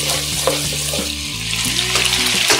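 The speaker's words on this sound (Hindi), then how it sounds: "अब इसमें हम ये साबुत गरम मसाला डाल देंगे। इसको भी आधा मिनट तक हम फ्राई करेंगे" Whole garam masala frying in hot oil for an aloo gosht curry, a close continuous sizzle and crackle over a low steady hum, with a few soft clinks.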